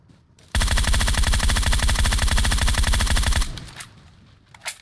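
Rapid automatic gunfire from a shooter video game with headshots, a loud, dense burst lasting about three seconds before trailing off into faint game sounds and a final short pop.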